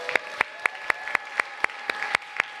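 At a Sunday church service, the congregation claps in an even, steady rhythm, with sharp regular hand claps about four per second, moderately loud and close.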